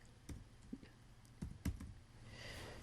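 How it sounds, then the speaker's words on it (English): Keys tapped on a computer keyboard in a hotel room, a few quiet, irregular clicks spread across a couple of seconds with soft background hiss. "So I'm going to start typing in."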